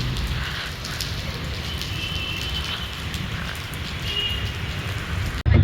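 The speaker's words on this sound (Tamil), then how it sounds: "சரியான மழை பொழக்குது." Heavy rain pours at the Kasimedu fish market in Chennai, a dense, steady hiss of drops hitting surfaces throughout, ending with a brief thump.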